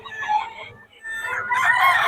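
A rooster in Bocaue crows close by in a long, strained call that breaks off and then rises again, with faint background noise underneath.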